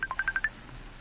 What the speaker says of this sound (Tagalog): May nanawag sa imong cellphone dong, Jumel.